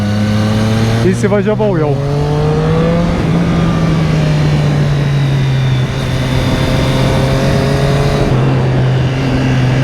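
Motorcycle engine on a karting track at Aukštadvaris, revving hard with steady throttle and rising, falling pitch, close and loud throughout while a rider talks over it.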